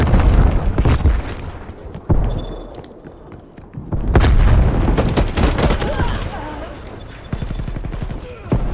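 Call of Duty Black Ops Cold War multiplayer battle: bursts of rapid gunfire and heavy booming explosions, loud and close, with an in-game voice speaking briefly between blasts.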